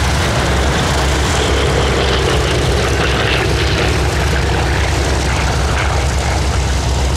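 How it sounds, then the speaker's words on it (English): A Grumman F8F-2P Bearcat piston fighter makes a flyby at the Sywell Airshow, its propeller engine roaring loudly and steadily throughout without any talk. "I think that was probably Pete's goodbye flyby."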